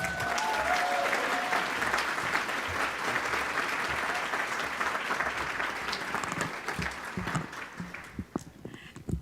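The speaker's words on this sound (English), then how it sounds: "Big round of applause for Kathy Russ." An audience at a morning community awards ceremony in a library applauds in a dense, sustained wave of clapping that gradually thins toward the end, with faint voices underneath.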